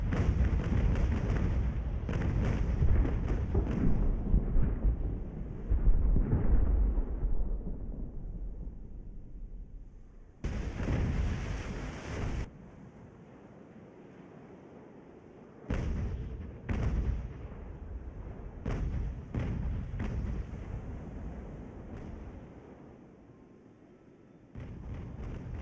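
Heavy sailing-ship cannons in the Ultimate Admiral Age of Sail naval battle game boom in rolling volleys, with thuds and crackling impacts layered over a dense battle din, followed by sharper isolated shots and a fading rumble.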